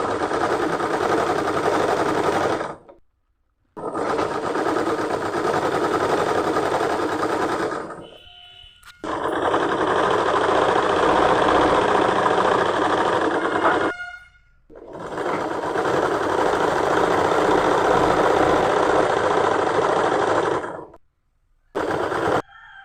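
A sewing machine stitching a blouse lining runs in long, loud, rapid bursts of needle clatter, stopping briefly between runs, close to the microphone with no talking.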